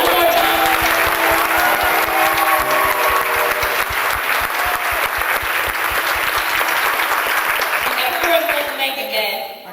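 An audience at a Ms Wheelchair Texas pageant claps loudly for the contestants, with sustained dense applause that fades slightly at the end, and a few voices mixed in.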